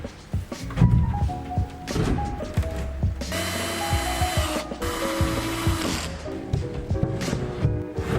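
Screws are driven into a melamine worktop with a power driver in a workshop, several whirring bursts of motor with clunks and handling knocks between them, close and moderately loud.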